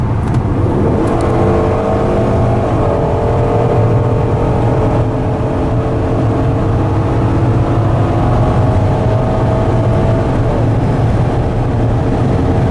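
A 2014 Ford Taurus, turbocharged and building boost, accelerates hard from highway speed, with a steady, loud engine drone whose pitch climbs smoothly throughout under heavy road and wind noise, with no one talking.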